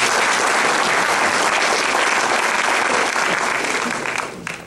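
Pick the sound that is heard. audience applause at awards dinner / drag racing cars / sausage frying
audience applause at awards dinner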